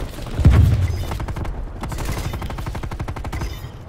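Gunfire in a Call of Duty Black Ops Cold War multiplayer match: a loud close blast is followed by a steady, rapid stream of automatic shots lasting several seconds, loud and up front with no talk.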